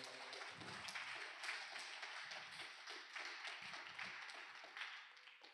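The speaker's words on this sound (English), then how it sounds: "Can we give God a big hand clap of praise?" A church congregation claps hands in praise, a faint, distant, steady patter of many hands with a few soft voices under it.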